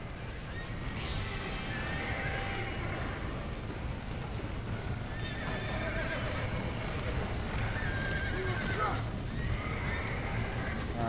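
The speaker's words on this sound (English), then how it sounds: "Horses!" Horses whinny several times in the video game Red Dead Redemption, over a steady windy background, with hooves clip-clopping and a voice speaking now and then.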